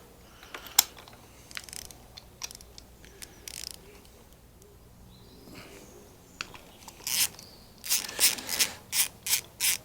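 A ratchet wrench with a spark plug socket holding a rubber grabber clicks in short bursts while removing a spark plug, with sparse clicks early and a denser run of ratcheting near the end.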